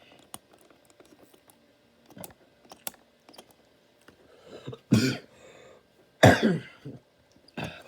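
A person coughs twice, loud and close, set against quiet background clicks that sound like typing on a computer keyboard.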